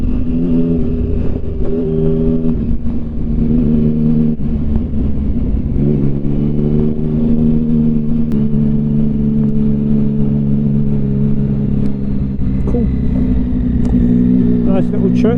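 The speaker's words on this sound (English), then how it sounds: "Bloody mini leaking oil with its loud exhaust, and that bike that leaks oil has a loud exhaust." A Mini car and an oil-leaking motorbike, both with loud exhausts, pass close by on an English road, a steady, heavy engine rumble that keeps going, with some revving, heard from a riding motorcycle throughout.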